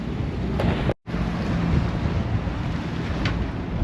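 Strong wind at sea roars steadily across the microphone with a catamaran's rumble and water wash beneath, broken by a momentary dropout.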